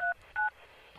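Telephone keypad tones from the Good Bye Rebeca game: two short, clean dialing beeps spaced apart, then a faint start of a third, quiet and isolated with no talk.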